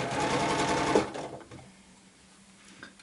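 A home sewing machine runs steadily at speed stitching a curved improv fan quilt seam, then slows and stops, leaving quiet handling noise near the end.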